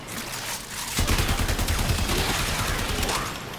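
Rapid automatic gunfire from the AX-52 weapon in Warframe, a quiet lead-in giving way at about one second to a sustained, close, loud stream of shots that continues to the end.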